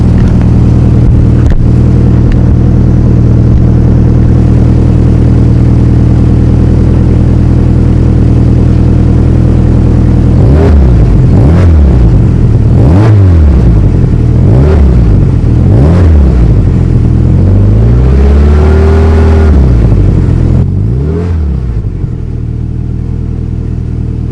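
An AWD Honda Accord with a freshly welded exhaust idles loudly and steadily, then gives several quick revs that rise and fall. The revs are followed by one longer rev before it settles back to idle.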